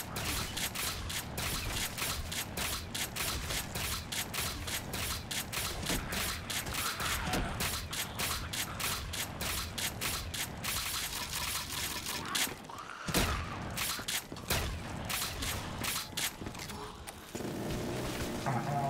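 Rapid bursts of gunfire from a Black Ops 3 custom zombies game on a Minecraft-textured tower map, loud and dense with repeated shots, mechanical clatter and a booming hit near the end.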